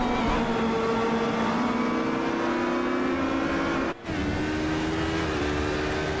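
GT race cars in a Suzuka sim race thundering flat out toward 130R, a steady loud engine drone with rising pitch through the gears and a brief shift dip midway.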